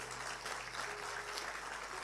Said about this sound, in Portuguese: Quem pode dar um aplauso bem forte ao Senhor?